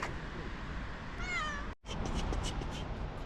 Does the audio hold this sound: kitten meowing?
yes